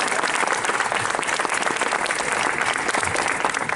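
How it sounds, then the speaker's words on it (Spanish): A dense, steady burst of audience applause from a large crowd at a tribute event, loud and continuous from start to finish with no break. "Un fuerte aplauso para Mayra Fernández"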